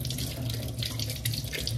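Tap water runs steadily into a sink at home, a continuous close splashing rush with no talking over it.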